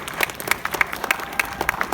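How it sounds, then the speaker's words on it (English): A school crowd applauds a student speaker at a high school walkout, brisk uneven clapping with sharp individual claps standing out, close and fairly loud. "Give her some applause"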